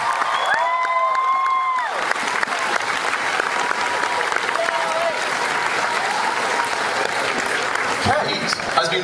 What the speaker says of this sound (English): And wants some applause for it.